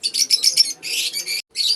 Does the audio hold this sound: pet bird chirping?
yes